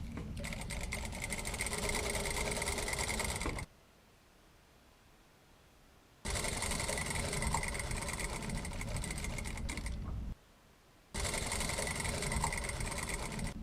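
A sewing machine topstitches a hem with a slit at three stitches per centimetre. It runs in two long, even bursts of fast, buzzing stitching, each stopping abruptly into near silence before starting again.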